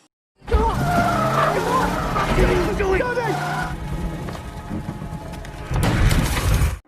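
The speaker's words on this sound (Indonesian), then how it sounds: "Danny merebut setir mobilnya yang menyebabkan mobil itu menabrak dan terbalik." A car in a film crashing and overturning, with loud tires squealing and skidding, a grinding impact with shattering debris, and a final burst of crunching noise, close and dramatic, with talk mixed in.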